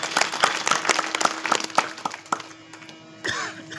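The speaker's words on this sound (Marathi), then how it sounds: "टाळी वाजवा एकदा." An audience at a village kirtan in Khujda, Purna taluka, Parbhani, claps in a brisk, uneven burst for about three seconds, then stops, with a brief louder rustle afterward.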